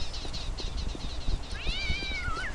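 A cat meows in the video game Postal 2, several clear rising-and-falling calls near the end over a busy background of game sounds and soft thumps.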